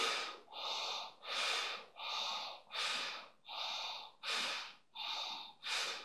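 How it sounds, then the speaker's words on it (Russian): Bhastrika pranayama bellows breathing is shown, with forceful nasal inhales and exhales in a steady, even rhythm of about nine strong breaths at close range and no speech. "Вот такой объем дыхания"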